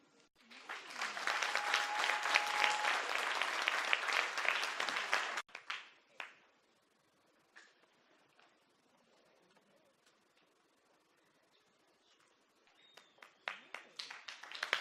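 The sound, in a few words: applause at a graduation ceremony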